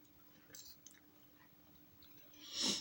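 Quiet, moist chewing of an apple-cherry fruit salad close to the mic, with a few faint bites early and a louder crunchy squish near the end over a low background hum.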